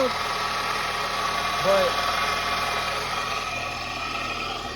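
A 1991 Saturn SL2 idles with its accessory belt removed, a low, steady mechanical hum with faint ticking. Someone speaks briefly over it.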